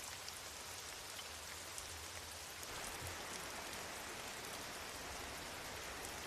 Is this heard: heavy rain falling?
yes